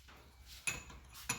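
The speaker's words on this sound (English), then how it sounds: "we're gonna knock this out part into that little groove with our hammer" Two sharp metallic hammer strikes on a chisel staking a Honda CR-V front axle nut, spaced about half a second apart, close by and fairly loud against a quiet background.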